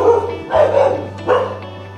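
Street dogs at an abandoned resort on Koh Samui bark and squabble, giving a few close, loud gruff barks and growling yelps in quick bursts over a low electrical hum.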